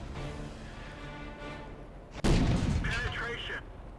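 A heavy tank cannon fires at a KV-5 tank in World of Tanks, one loud boom midway with a long rumbling decay. Someone talks in the background.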